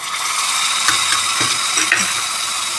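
A spoon stirs a curry leaf tempering in a hot pan for raw kadhi, giving a continuous close sizzle with repeated scraping strokes against the pan and no voices.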